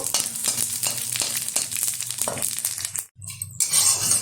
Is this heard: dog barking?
no